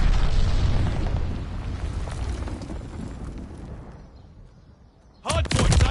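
Glide bomb explosion in a video game, a heavy booming blast with a rumbling tail that fades over several seconds, followed by sharp crackling bursts near the end.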